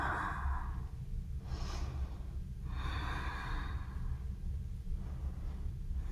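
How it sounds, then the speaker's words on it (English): Slow, audible yoga breaths, long inhales and exhales through the nose and mouth, repeating in a steady rhythm close to the microphone over a low background hum, with no talking. "Inhale, exhale."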